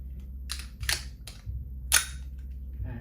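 Shots from AKSA M1911 blank-firing pistols, Turkish-made 9 mm P.A.K., ring out as about four sharp cracks spread irregularly across a few seconds, with the loudest near the end and a low background rumble between them.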